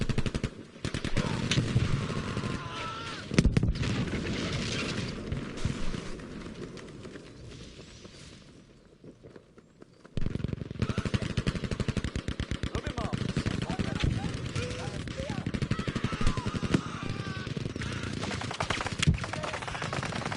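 Heavy gunfire and explosions from a World War II video game battle with Panzerfaust rockets hitting a building. Dense rapid machine-gun bursts and booming blasts run almost without pause, briefly thinning midway, with a commentator talking over the din.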